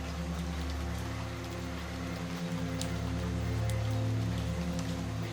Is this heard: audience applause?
no